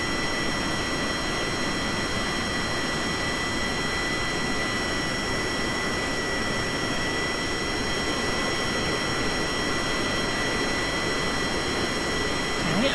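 Spacecraft engines throttling up in a video game, a steady loud roaring rumble with a constant high whine, unbroken and even throughout.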